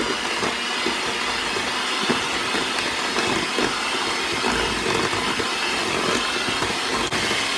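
An electric mixer on medium speed creams room-temperature butter and cream cheese, giving a steady, dense whirring hiss that runs continuously and evenly throughout, close and fairly loud with no talking.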